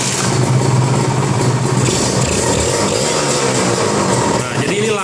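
Kawasaki Ninja RR motorcycle engine running after being cranked again, a steady mid-pitched idle with rhythmic pulsing, close and fairly loud, settling slightly near the end.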